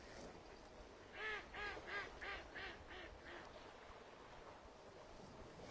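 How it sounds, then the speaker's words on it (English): Faint quacking from ducks on a pond, a short run of six or seven rhythmic calls at a distance, over a low steady background hum. "It is rather lovely watching ducks at play."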